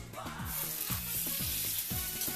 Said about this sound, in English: My cast iron skillet is on medium-high heat with some oil in it.